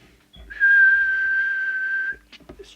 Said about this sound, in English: So now I'll just give it the whistle test.